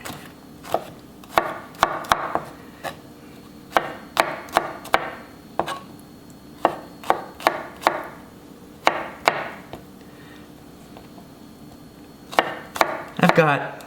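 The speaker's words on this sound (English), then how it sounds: "slice up our garlic too" A knife slicing garlic cloves on a cutting board for a fermented pink turnip jar: many crisp, close knocks in irregular bursts, with a short pause before a final quick flurry.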